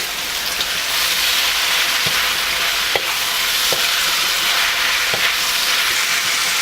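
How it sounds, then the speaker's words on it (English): Celery, zucchini and cabbage stir-fry for chicken chow mein, making a loud continuous sizzle punctuated by a few sharp scraping knocks of a utensil against the pan. "And I'm going to add my celery, zucchini, and the cabbage."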